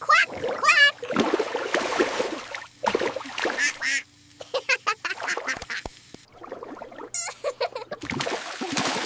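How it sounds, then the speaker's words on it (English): A rubber duck toy quacks repeatedly during bath time, with splashing water and an adult talking over the bursts of quacks. "The rubber duck goes quack,"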